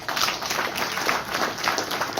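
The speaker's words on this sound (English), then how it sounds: "we should give Obadiah a hard clap" An audience at a business launch in Kenya applauds with dense, continuous clapping that holds at a moderate level throughout.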